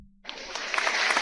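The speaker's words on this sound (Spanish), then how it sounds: "Pon aplausos, por favor." A recorded applause effect cuts in abruptly after a brief quiet moment and carries on as a steady, bright wash of clapping.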